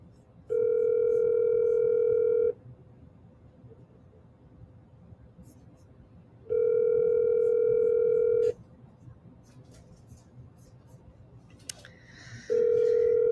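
An outgoing telephone call rings out in three long, even tones about four seconds apart, clear and close, with soft background noise between the rings.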